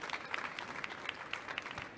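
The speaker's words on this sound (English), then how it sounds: "Super, another round of applause for Olivier" Audience at a machine demo stage event claps for a demo presenter, a brief patter of scattered applause heard at moderate distance, fairly quiet.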